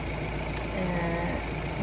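Car engine running outside a house as the driver prepares to pull away, a steady low rumbling hum heard close and unchanging throughout, with no talk over it.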